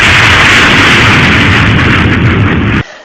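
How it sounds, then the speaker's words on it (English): A sonic boom from a supersonic plane: a loud, broad roar that holds steady for nearly three seconds and then cuts off abruptly, with no voices. "it is audible as a sonic boom."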